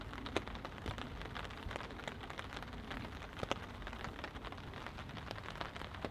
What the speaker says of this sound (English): It's just been non-stop rain today.